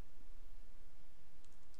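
A few quick keystrokes on a computer keyboard type a short command, soft close clicks over a faint background hum.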